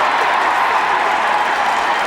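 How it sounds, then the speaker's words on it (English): A big round of applause from the crowd at a 1995 NCAA men's lacrosse game between Syracuse and Johns Hopkins, a dense, steady wash of clapping and cheering that fills the stadium as a player jogs off the field. "Good job by Wittick, who runs off the field to a big round of applause"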